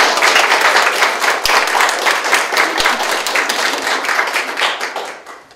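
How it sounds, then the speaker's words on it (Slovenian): An audience claps for a handicraft exhibition's art and technical leaders in Podkoren, a loud, steady, dense round of applause that fades toward the end. "Dajmo ploskati."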